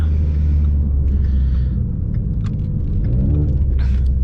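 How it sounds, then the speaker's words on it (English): A Mustang's engine rumbles low and heavy while downshifting, with a few faint crackling exhaust pops scattered over the steady drone. "You guys hear little pops back there."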